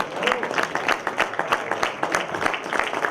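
A football crowd at a US Sarre-Union match claps steadily for a substituted player, dense continuous applause with a commentator's voice over it.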